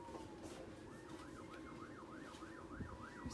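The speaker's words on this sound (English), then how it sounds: "Do you guys hear those sirens? They're all over the place." Police sirens outside a building wail in a fast, regular up-and-down yelp, heard faintly and at a distance over a low background hum, with no talking.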